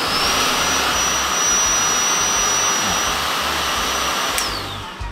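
A Bosch Unlimited 7 BBS711W cordless vacuum cleaner runs in eco mode, giving a steady, fairly loud whirring motor drone with a thin high whine held throughout, alone with no voices.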